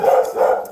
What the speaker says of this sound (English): And that's the puppy, I guess.